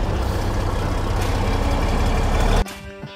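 A military truck's engine rumbles loud and steady from inside the rough-riding cab, with a broad rattling drone that suddenly drops away near the end, leaving a quieter low hum.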